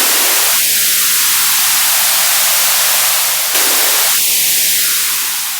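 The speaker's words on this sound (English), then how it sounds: "We could also assign a white noise source to input 1." Loud steady white noise hiss from a Future Retro Vectra synthesizer that twice sweeps upward in tone and then slowly falls back, like a filter opening and closing.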